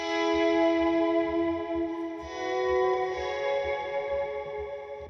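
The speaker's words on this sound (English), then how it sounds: "I have grabbed the electric and added just some movement, some space with this kind of the reverb sky pedal" Sustained electric guitar chords through a reverb sky pedal, washed in long, shimmering reverb, notes blooming and overlapping into an atmospheric pad, steady and fairly loud throughout.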